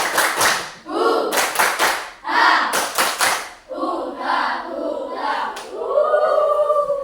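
A school class performs the 'tepuk rimba' clapping routine, loud rhythmic group clapping in bursts with chanted voices mixed in, close and lively.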